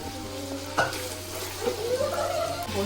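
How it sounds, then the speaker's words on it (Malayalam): Curry leaves, green chili, ginger and crushed garlic sauté in a pan for chicken biryani, with a close, steady sizzle and a few stirring scrapes over a low, constant hum. "കറിവേപ്പില വരട്ടി അപ്പോൾ ഒന്ന് വഴന്നിട്ട് അതിനകത്തോട്ട് പച്ചമുളകും ഇഞ്ചിയും വെളുത്തുള്ളി ചതച്ചതിട്ട്"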